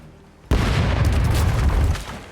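Ship cannon fires in the pirate video game Rogue Waters, a single sudden loud boom that rolls on with a dense crackling blast and fades after about two seconds.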